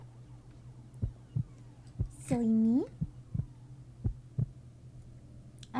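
A slow, steady heartbeat thumps at close range in an arcade horror game, with evenly spaced low pulses under a background hum. A voice briefly interrupts partway through.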